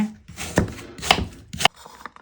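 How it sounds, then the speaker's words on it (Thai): A knife cuts peeled apple flesh into small pieces for a flourless honey apple cake, giving three crisp, close chops about half a second apart. "แล้วเราจะเอาบริเวณที่เป็น เนื้อแบบนี้ มาหั่นให้เป็นชิ้นเล็กๆนะคะ"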